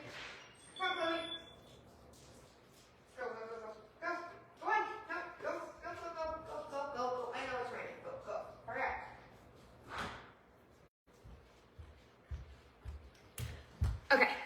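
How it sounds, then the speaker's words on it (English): Several dogs bark and yip indoors in bursts through most of the clip, fairly close and excited, with a person talking briefly near the start. "My dogs need to be let out."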